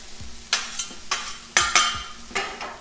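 Ham, vegetables and hash browns cook on a Blackstone flat-top griddle, with a soft steady sizzle broken by several short scraping stirs of a spatula across the steel, close by and with no talk.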